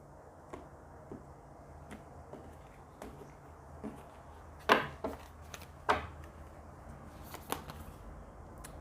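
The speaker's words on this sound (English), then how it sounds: "so I'm gonna just give it one shuffle." A deck of tarot cards given a single shuffle, heard as faint soft ticks followed by a couple of sharper riffling bursts in the middle, alone against quiet room background.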